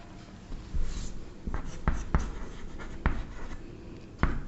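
Chalk or a marker writes out a trigonometry solution on a board in a close run of scratchy strokes and sharp taps, with several distinct ticks spaced through the passage and no speech over it.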